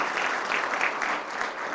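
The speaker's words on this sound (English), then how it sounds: "applause." A brief burst of steady clapping from a luncheon crowd, moderately loud and even throughout its short span, with no talking on top.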